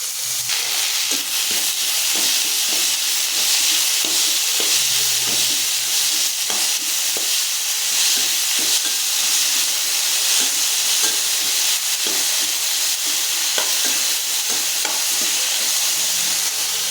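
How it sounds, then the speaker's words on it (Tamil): Chopped tomatoes frying in a pan for kadamba chutney, stirred repeatedly: a loud, dense hissing sizzle with steady scraping and clinks of the spoon, close and continuous, with no voices. "வணங்கினதுக்கப்புறம் வெட்டி வச்ச தக்காளியை ஆட் பண்ணிக்கலாம்"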